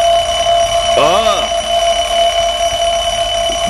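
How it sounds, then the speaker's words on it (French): An alarm clock rings with a steady, shrill, piercing tone, while a short warbling vocal exclamation cuts across it near the start. "Oh là là, ce réveil ! Oh, ça suffit ! Je suis réveillé !"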